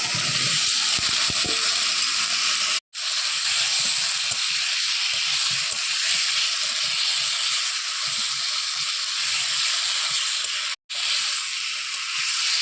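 Boiled potatoes and fried eggs go into a pan of cooking masala, giving a steady loud sizzling hiss with faint scraping clicks, briefly cut off twice.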